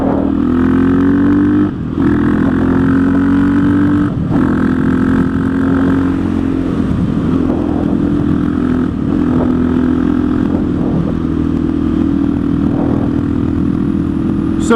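A KTM 660 SMC single-cylinder motorcycle riding at speed, its engine droning loudly and steadily with brief dips at gear changes, plus strong wind rush.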